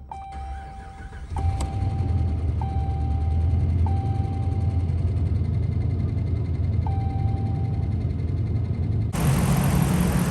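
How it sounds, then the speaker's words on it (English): A 5.7 Hemi V8 engine in a 2013 Dodge Ram truck cranks briefly on a weak battery, then catches and settles into a steady, rumbling idle that continues close and loud, with a faint alarm-like tone chiming intermittently. "Battery's kind of weak, but let's crank it up and see how she does."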